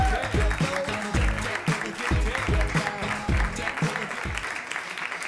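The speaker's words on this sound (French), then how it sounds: "On peut l'applaudir." A studio audience on a French-language television show applauds a politician guest arriving on set, steady broadband clapping mixed with a rhythmic, thumping musical beat underneath.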